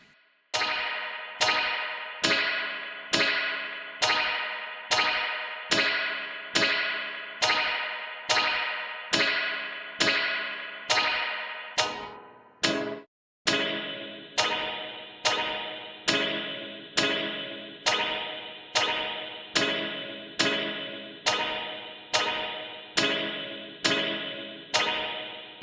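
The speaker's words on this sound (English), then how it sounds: "which has a big impact on that typical twang sound at the start of the reverb" Pulsar Primavera spring reverb struck in a steady rhythm, each hit giving a bright metallic twang that decays in a sawtooth pattern, with a brief gap midway before the regular pulses resume, loud and alone.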